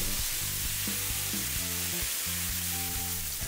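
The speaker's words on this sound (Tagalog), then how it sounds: "At habang sinisir itong ating liempo, siguraduhin nyo lang na binabaliktad natin ito." Liempo, Filipino pork belly, searing in oil in a pan, giving a loud continuous sizzle and crackle with a low hum underneath, steady throughout and with no talk.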